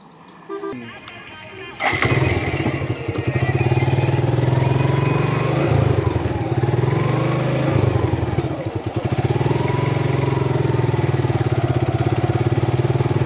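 A motorcycle engine starts after a short rustle, then runs loud and close for a ride toward a fuel pump, with the engine note rising and falling through gear changes, and no talk.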